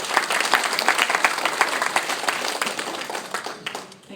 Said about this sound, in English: use a round of applause to welcome Ms.